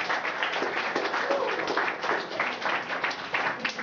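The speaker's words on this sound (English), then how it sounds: "can we give them a round of applause again?" Audience applause for a school's student council, a steady wash of many hands clapping at moderate volume, sustained evenly without a clear rise or fall.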